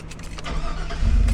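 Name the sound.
2001 Chevy Silverado engine starting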